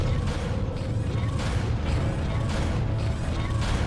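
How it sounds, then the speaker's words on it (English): Ship machinery from Dead Space rumbles and creaks in a dense, continuous mechanical drone, with a heavy low throb and grinding layers that stay loud and unbroken. "the machinery surrounding Isaac is awful sounding"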